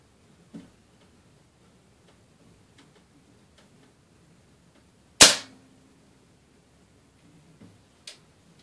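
Single sharp, loud report of a Daisy air rifle firing a .22 wadcutter pellet on a quiet range, ringing briefly, with faint clicks from handling before it and a smaller snap near the end.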